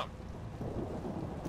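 A grenade blast in the video game XCOM 2, heard as a dense, sustained low rumble and crackle, steady and loud through the whole moment with no voices.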